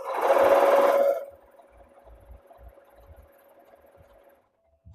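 A loud sewing machine runs fast while shirring fabric for about a second, then stops, leaving faint clicks, a low hum and a steady tone until near the end.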